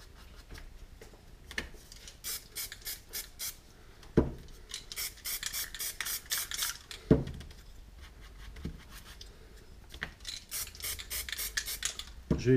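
A small brush and a wider flat spalter dab and scrub paint onto a surface to build up clouds in a sky, making dry, close rasping strokes in irregular bursts with short pauses between them.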